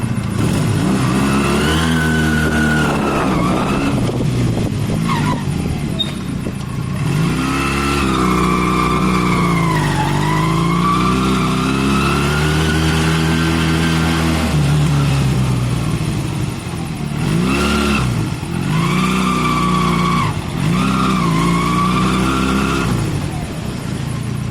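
A Honda CB250 motorcycle engine runs on a test ride after a new carburettor install, its note rising and falling steadily through revs and gear changes, loud and close throughout with no talking.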